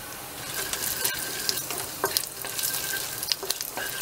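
Whole spices (cloves, green cardamom, cinnamon, cumin seeds) crackle and sizzle in hot oil, with a steady frying hiss and scattered pops and stirring scrapes.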